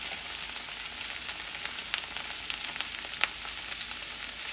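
Okra cooking in a skillet on high heat, a steady close sizzle and crackle with a few sharp pops, moderately loud and uninterrupted, with nobody talking.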